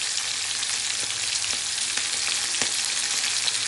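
Mustard hilsa fish curry bubbles in a pan, a dense, even hiss with faint scattered pops and light clinks, close and steady without any voices.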